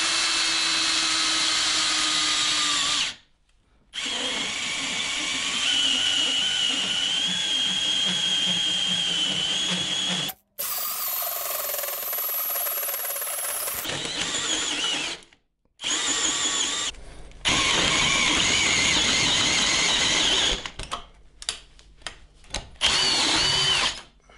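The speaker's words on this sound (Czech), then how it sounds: "takže jdeme vrtat nerez." A power drill with a hole saw bores into stainless steel in several loud, whining bursts separated by short pauses, the pitch shifting as the cutter bites.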